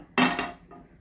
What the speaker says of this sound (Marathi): आता आपण एका बाजूला हा पॅन तापत ठेवूया।